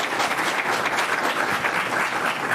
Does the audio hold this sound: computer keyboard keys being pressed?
no